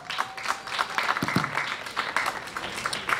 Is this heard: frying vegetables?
no